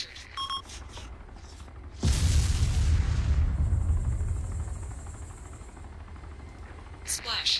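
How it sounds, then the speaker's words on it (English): In the video game Arma II, a loud cannon blast booms and rumbles on for several seconds, preceded by faint electronic beeps and small clicks. "I'm being attacked by a cannon"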